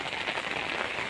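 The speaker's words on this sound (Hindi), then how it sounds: "गाजियाबाद की पहली बारिश और कितना सुंदर मौसम हो गया है।" The first monsoon rain in Ghaziabad patters steadily on surfaces, a dense hiss heard close for just over a second with no voices.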